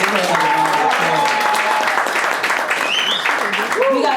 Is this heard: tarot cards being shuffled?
no